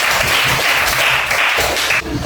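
Loud applause from students in a classroom for a group that has just presented, a dense continuous clatter of many hands held at even strength and cutting off abruptly near the end.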